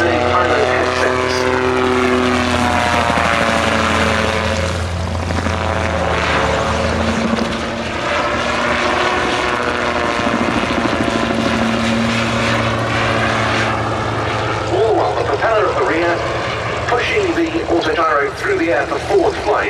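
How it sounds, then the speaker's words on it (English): A Rotorsport UK Calidus gyroplane flies at the Duxford summer airshow, its propeller engine droning loudly and continuously with shifting pitch as it passes. A commentator talks over it on the public address. "The rotor, as you can see, is inclined slightly backwards, which means that the air flows up through the rotor disc and keeps it spinning."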